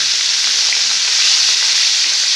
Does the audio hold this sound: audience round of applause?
no